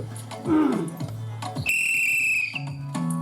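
A whistle shrills clearly at a Navratri festival game in Limbachiwadi, one sustained loud blast amid several shorter whistle-like tones and a little crowd noise.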